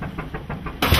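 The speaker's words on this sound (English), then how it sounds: "the driving force is the 1928 three-cylinder diesel-fueled engine, Jeffrey's second love." A 1928 three-cylinder diesel engine runs aboard the classic boat David B., a low, steady thumping throb with a rhythmic beat, then a sudden louder burst of broadband noise near the end.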